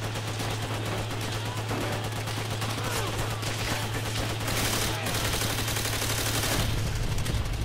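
Rapid machine gun fire and gunshots in the World War II shooter Call of Duty: World at War, dense continuous bursts with a steady background hum, loud and sustained throughout.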